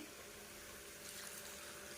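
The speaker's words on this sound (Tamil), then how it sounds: "தேவையான அளவு தண்ணி ஊற்றிக்கோங்க" Water poured into a cooking pan holding potatoes, making a steady, continuous rushing and splashing that runs close and fairly loud for the whole stretch, with no talking over it.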